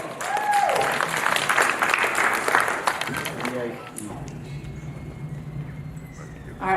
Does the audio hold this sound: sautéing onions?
no